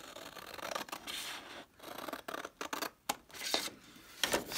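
Scissors cut up the side of paper for a DIY Daiso fan craft, giving close, raspy snips and scratchy rubbing in uneven strokes broken by short pauses, with no talking.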